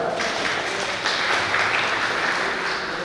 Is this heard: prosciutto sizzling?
no